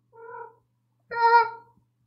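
A house cat gives two distinct meows, a short one followed after a pause by a longer, louder, brighter one, heard close and alone against silence.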